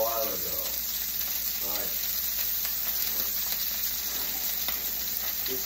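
Slightly slimy steaks frying in a pan, a steady close sizzle with faint crackles throughout, and a brief spoken word at the start.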